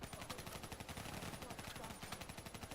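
Steady automatic gunfire in the video game Black Ops 3 rattles on in rapid repeated bursts, fairly loud and continuous throughout.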